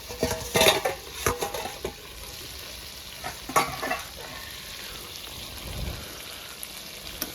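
Chicken leg pieces sizzle in a frying pan while a utensil scrapes and stirs them in several bursts, with steady frying hiss in between.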